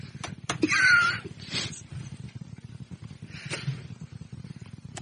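A cat meow sound effect played on a radio show, one short clear meow near the start, then quiet background with a fainter second cry later.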